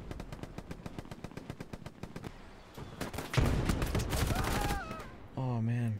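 Machine gun fire in the World War II shooter Hell Let Loose, rapid rhythmic bursts of shots followed by heavier mixed gunfire and other game sounds, with players talking over the action.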